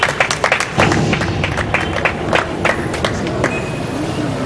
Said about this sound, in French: Je vous prie de réserver des acclamations à Sharon Zinga et sa famille.